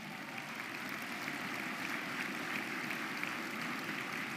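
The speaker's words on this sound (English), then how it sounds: "Give yourselves a round of applause." A round of applause from a crowd at a Dr. Martin Luther King Jr. holiday breakfast in the Twin Cities, a fairly faint, even wash of many hands clapping with no break.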